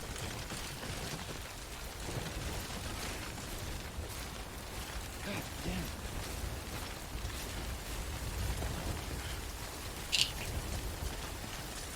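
Heavy rain pours down in the video game Death Stranding, a constant dense wash of falling water that holds at an even level throughout with only slight swells.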